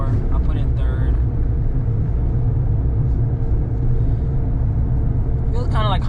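A kei car cruises at about 40 km/h and shifts into third gear, its low engine and road rumble steady and close beneath someone talking throughout.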